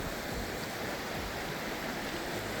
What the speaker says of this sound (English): So this is the river behind our campsite